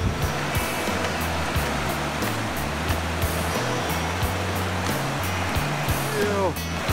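Water of the North Fork American River rushes in a steady close wash, loud and continuous, with a faint rhythmic low tone running beneath it.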